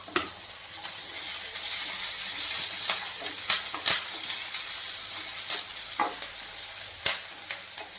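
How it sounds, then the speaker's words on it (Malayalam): Onion, curry leaves, chilli and garlic sautéing in a pan, giving a steady crackling sizzle with occasional sharper pops and stirring clicks, close and moderately quiet. "സവാള, കറിവേപ്പിൻ്റെ ഇല, മുളക്, വെളുത്തുള്ളി ഒക്കെ ഒന്ന് ആദ്യം ഒന്ന് വാട്ടിയെടുക്കാം."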